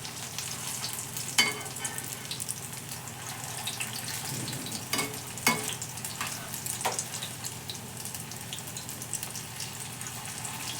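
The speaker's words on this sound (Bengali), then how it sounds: "তো দেখো বন্ধুরা, বড়াগুলোর এক পিঠ হয়ে গেছে, তো আমি এটা উল্টে দিই।" Cabbage pakoras sizzle in hot oil after being flipped, a steady soft crackle with a few sharp clatters of a utensil against the pan, moderately close and with no talking.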